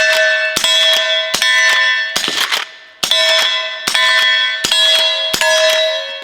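Rifle bullets striking steel targets outdoors, a string of about eight sharp metallic clangs with ringing, bell-like tails at a steady pace, loud and close, with one duller impact in the middle.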